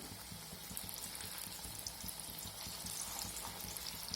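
Flipped jackfruit pakoras keep frying in refined oil, a soft, even sizzle with faint bubbling that stays steady and close throughout, no voices.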